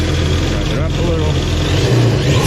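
Yamaha 1.8L SVHO supercharged watercraft engine revving up briefly during an oil-change warm-up, a steady close, loud mechanical drone with a slight rise in pitch, heard continuously throughout.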